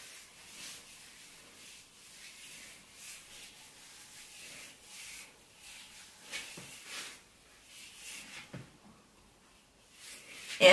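Fingers raking through dry curly hair in soft, repeated rubbing strokes: close, light brushing and scratching textures in an irregular rhythm with no talking.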